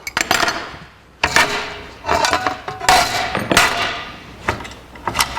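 Metal clamps being taken off a scribed metal sheet in a workshop, a close series of sharp clanks and rattles in irregular bursts with brief pauses.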